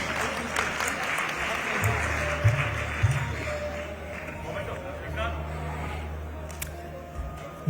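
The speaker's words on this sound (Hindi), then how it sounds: "आप तालियों से अभिनंदन कर दीजिए प्लीज।" Audience applause at a felicitation ceremony in Delhi honouring Vaishya ministers and legislators, a dense clapping wash mixed with crowd murmur and some low rumble, steady and moderately loud throughout.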